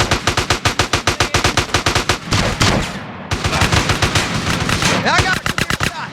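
Rapid automatic gunfire in the video game GTA San Andreas, loud close bursts in a fast steady rhythm, pausing briefly midway before the shooting resumes.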